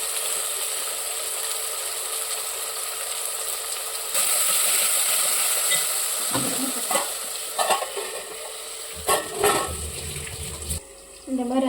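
Tomatoes sautéing in a pan with crushed rock salt for a sembadaka fish curry: a steady sizzle under repeated scraping and clacking of a stirring spoon, close and moderately loud, with no talk.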